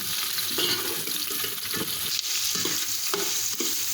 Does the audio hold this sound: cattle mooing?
no